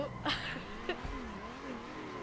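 Race car accelerating in the Assetto Corsa driving game, the engine note rising and wavering through revs during a drift attempt, moderately quiet, with brief clicks and a short bump near the start.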